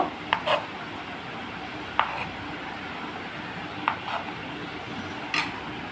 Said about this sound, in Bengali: এইভাবে টুকরো টুকরো করে পিচ করে নেব